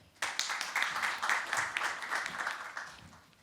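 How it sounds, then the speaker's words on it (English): An audience at a healthtech startup pitch event applauds as a founder comes to the stage, a steady burst of clapping that starts suddenly and fades off after about three seconds. "Thank you for clapping for me."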